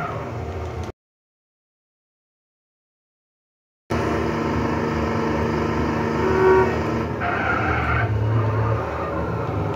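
A car in the video game GTA San Andreas revs and skids, with a steady engine roar that breaks off into a brief silence and then returns, followed by a short tyre squeal.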